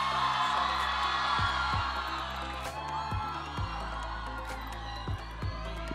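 A college audience cheers for Bollywood actors Varun Dhawan and Janhvi Kapoor and director Nitesh Tiwari, a dense sustained roar of whoops and shouts filling the hall, with music pulsing underneath.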